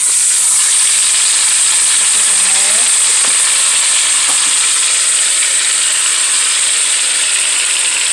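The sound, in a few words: roast searing in a pan with garlic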